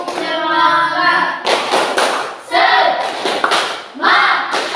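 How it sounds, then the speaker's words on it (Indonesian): A primary school class claps a rhythmic spirit-clap chant, with loud bursts of clapping in quick groups after a chanted vocal opening, children's voices mixing in. "Kita tepuk semangat."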